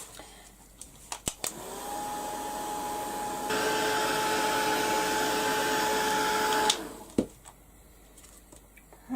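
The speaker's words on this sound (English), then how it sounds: "So I'll give that a quick blast with the heat gun now." A heat gun blasts hot air onto corrugated card, a steady loud whooshing roar with a faint whine that starts abruptly, swells slightly midway and cuts off after about five seconds, with small clicks and handling noises on either side.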